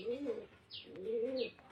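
Mukhi pigeons, also called mechao, give two close, soft, rolling coos about a second apart, each followed by a faint high chirp.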